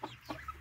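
Chickens in a poultry breeding yard give a short burst of soft clucks, three or four quick notes close by and faint, with no voices.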